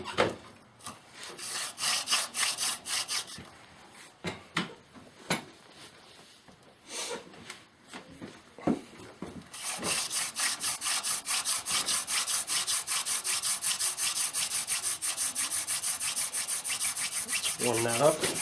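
Rapid, steady scraping and rubbing of a wooden hand drill in a box elder board while making friction fire, irregular at first, then settling into a continuous fast back-and-forth friction rhythm, close and fairly loud.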